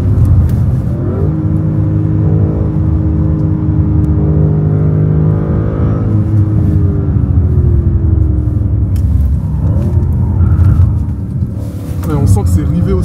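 An all-original car's engine drones steadily while driving on the road, a loud continuous rumble with rising and falling pitch as it accelerates and eases off, with people talking over it throughout.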